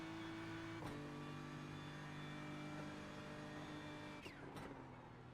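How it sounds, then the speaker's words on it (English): Steady hum of a car engine in the iRacing sim racing game, droning at a constant pitch throughout with a couple of brief shifts in tone, fairly quiet and with no talk. "Aye, engine sounds fine."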